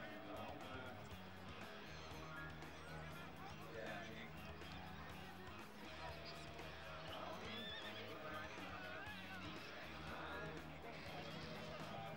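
Horses neigh and whinny loudly as catchers wrestle them to the ground in pens before an auction, amid a busy, noisy scene with people talking and shouting throughout and scuffling movement underneath.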